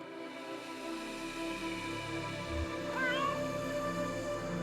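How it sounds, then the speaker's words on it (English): A single short cat meow in the video game Kentucky Route Zero rises over a steady synthetic musical hum, fairly quiet and clear. "Curious meow."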